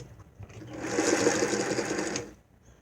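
A Singer 221-1 sewing machine runs steadily, stitching in reverse and then forward, a close, continuous mechanical whir that swells in the middle and stops after about two seconds.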